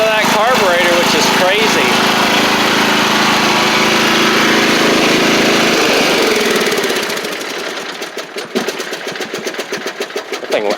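Powermore engine on a Columbia lawn tractor idling low and steady, loud and close with a rough mechanical chatter, fading in level toward the end as a voice talks over it.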